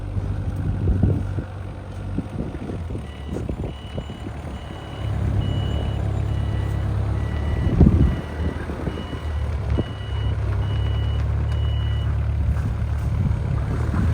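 A Wolf Mini 780H Chinese wheel loader rumbles with a steady low diesel drone while its reversing alarm beeps in an even repeating pattern, heard close under wind noise and no talking.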